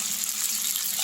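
Pointed gourd and potatoes frying together in a wok give off a soft, steady sizzle, faint and continuous over a brief moment.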